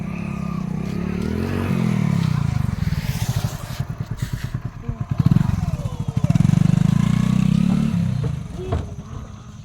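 A motorbike engine runs close by, its rapid pulsing putter rising and falling as it revs and idles for the whole stretch, with a louder surge in the middle and faint background voices.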